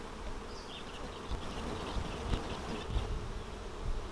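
Honeybees buzzing around an open hive being split, a dense, continuous drone from many bees close by, with a few louder fly-past whines and no talk.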